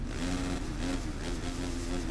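Motocross bike engine revving in MXGP 3 on Nintendo Switch, a steady buzzing drone that holds loud and continuous throughout with a slight wavering pitch, no talk.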